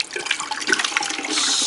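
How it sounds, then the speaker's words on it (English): Liquid from a root beer batch is poured down a sink drain, giving a brief, close splashing and gurgling of water that becomes a steady rush toward the end. "It tells us to pour everything down the drain."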